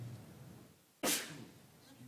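A single sharp sneeze bursts out near a microphone during a county commissioners court meeting, loud against a faint murmuring room background.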